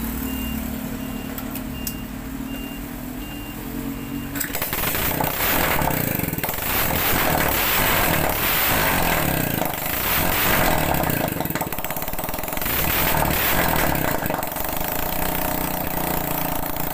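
Rusi Neptune 125 motorcycle engine after a top-end overhaul, starting up around four seconds in and then running at a steady idle, loud and close with a busy mechanical clatter.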